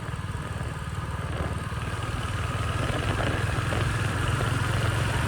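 Royal Enfield Hunter 350 motorcycle engine on a night ride after rain, a steady low rumbling drone that stays loud and close throughout with no pauses.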